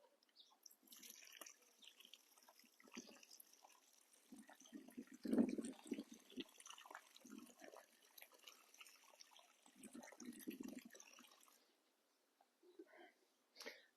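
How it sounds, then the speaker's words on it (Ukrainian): Water is poured and splashes softly into the soil of a flower-bed planting hole in several short bursts, fairly close and quiet, with pauses between pours and near silence at the end. "А зараз ми прольємо цю луночку."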